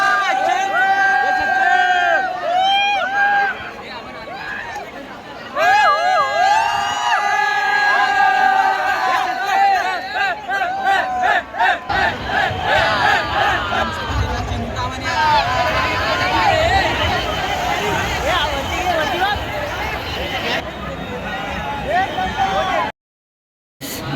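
A dense festival crowd at a Ganpati arrival procession in the rain, with loud overlapping voices, shouting and excited cheering close by, shifting in intensity throughout before cutting off near the end.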